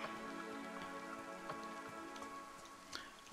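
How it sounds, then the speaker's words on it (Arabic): Rain in the DayZ video game, a steady soft patter of drops on surfaces with occasional sharper ticks, faint and continuous over a quiet ambient hum. "طبعا صار مطر"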